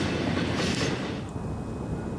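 A Union Pacific grain shuttle freight train rolls past on the Enid Sub, a loud continuous wash of wheel and rail noise, rising briefly then easing slightly as it continues.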